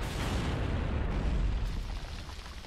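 Loud, sustained explosive rumble from a Torque Bow shot detonating in Gears of War 2 multiplayer, a dense roaring blast that fills the whole clip and slowly tapers without distinct separate hits.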